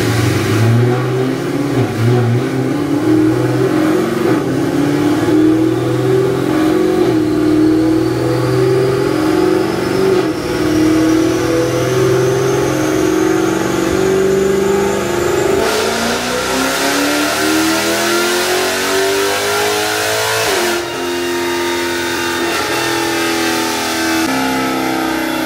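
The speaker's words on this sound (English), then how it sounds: "we got the 2015 Dodge Challenger here on the dyno. We're going to go ahead and do a full pull" A 2015 Dodge Challenger Scat Pack with a stage 2 cam and upgraded injectors makes a full dyno pull, its engine roaring loud and close as it climbs steadily in pitch, then drops off sharply near the end with no talking.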